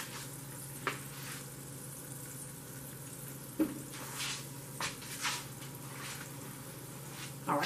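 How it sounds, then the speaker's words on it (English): Liver frying slowly in a pan for smothered liver and onions, a soft steady sizzle with a low hum and occasional faint pops and clinks. "like it's frying kind of slow"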